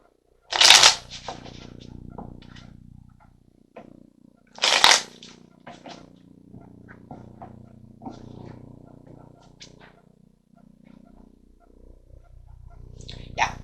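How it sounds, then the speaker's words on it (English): Tarot cards being shuffled and drawn in a reading: two loud, brief riffles a few seconds apart, then softer card handling and rustles, with a voice speaking in the background. "Let's grab a few cards over here."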